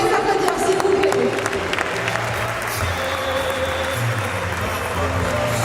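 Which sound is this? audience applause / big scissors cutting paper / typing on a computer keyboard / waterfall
audience applause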